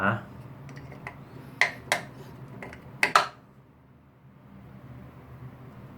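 A lid set back onto a toilet cistern, a handful of sharp ceramic clacks and knocks close by, the last pair loudest, then a quiet hiss of running water.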